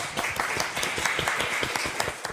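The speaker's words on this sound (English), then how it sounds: "Round of applause." Audience applause welcoming the third founder onto the stage at a startup pitch event: dense, steady clapping from a crowd, close and sustained for a couple of seconds.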